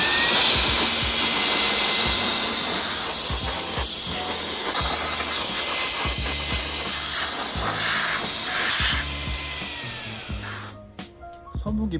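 A Reesibi R5 cordless air gun blasts dust off a dirty fan with a loud, continuous high-pitched jet hiss and a whirring motor tone, then cuts out abruptly with a few sputtering bursts at the end.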